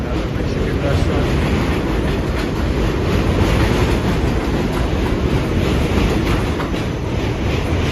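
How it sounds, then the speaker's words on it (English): Train running past a station in the Bronx, New York City, a loud, continuous roar of wheels and rail noise close by with faint clickety-clack throughout. "Can you imagine living right next to the train station, this train station? Sounds so loud."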